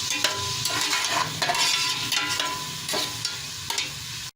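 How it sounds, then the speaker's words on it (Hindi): Sliced onion fries and browns in hot oil, with a steady close sizzle broken by intermittent scraping stirs, at moderate loudness and with no voices. "इसी ऑयल में हम प्याज ब्राउन कर लेंगे"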